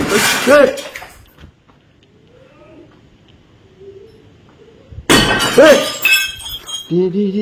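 Glass shatters loudly inside a tea factory in Bonacaud, Kerala, with two sharp crashing bursts a few seconds apart, separated by a quieter stretch holding faint voices, and scattered tinkling after each break.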